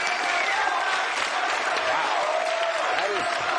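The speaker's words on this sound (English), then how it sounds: "That is the most applause a Republican ever got around here." A studio audience applauds and cheers steadily for a guest on a talk show, a dense, sustained wash of clapping and crowd noise with no break.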